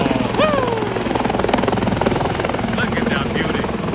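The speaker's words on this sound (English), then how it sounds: "I'm waiting for the chopper to take me." A helicopter flying over New York City, a loud continuous rotor chop with a steady pulsing beat overhead, while a person talks and whoops excitedly over it.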